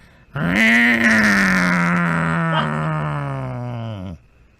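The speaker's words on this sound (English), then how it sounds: "there are 3 hungry cats sitting atop this barrel. They're growling at you, hissing" Hungry cats perched atop a barrel in a fantasy tabletop game scene let out one long, loud growling yowl that lasts about four seconds and slowly fades. No hiss stands out.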